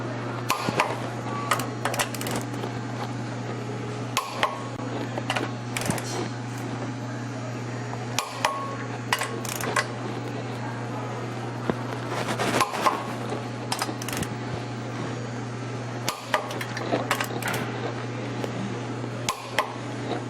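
Bolts on a 2000 Honda Civic Si are given their final tightening with a hand ratchet, a steady run of clicking pawl ticks over a constant workshop hum, close and moderately loud, without any impact gun.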